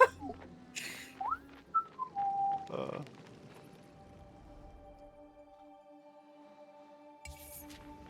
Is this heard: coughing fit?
no